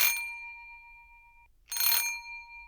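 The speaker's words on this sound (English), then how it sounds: "There's the bell." A doorbell rings twice in a domestic drama scene, each ring a bright metallic chime with a lingering tone, the first fading out before a second ring after a short pause.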